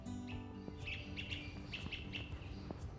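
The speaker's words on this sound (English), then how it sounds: "There's a flicker up here." Bird calls in Central Park attributed to a northern flicker: a run of short, bright, repeated chirps at a steady moderate pace, heard at mid distance over a low outdoor background hum.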